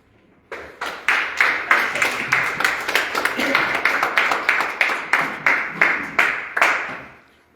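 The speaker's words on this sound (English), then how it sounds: "Let's give the speaker another round of applause" An audience at a regional football congress claps in a steady, regular rhythm, with loud evenly spaced bursts for about seven seconds that carry some voices and then stop.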